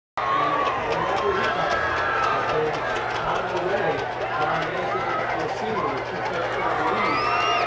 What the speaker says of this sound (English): The crowd's all riled up.